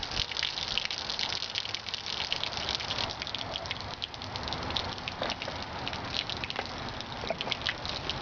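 Bleach-treated water drains steadily from the spigot of a water storage container, a continuous close gushing splash that holds at an even level throughout with no talking.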